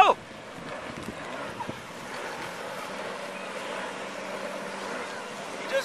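A stand-up jetski runs out on open water, a steady broad motor and spray rush mixed with wind noise on the microphone, fairly loud and continuous.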